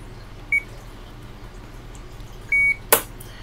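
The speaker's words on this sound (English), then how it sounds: "And once you hear the beep, you let go." Two short, clear electronic beeps from an OpenTX radio transmitter as its timer switch is held during INAV fixed-wing setup, about two seconds apart, followed by a sharp click, with no talk over them.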